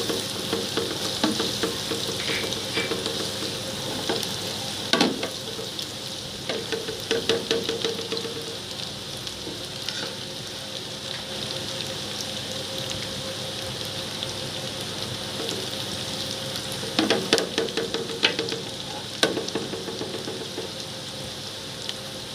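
Chopped garlic sizzles steadily in plenty of oil and butter for restaurant-style fried rice, a continuous frying hiss with occasional sharper crackles and stirring clatter, close and alone without talk.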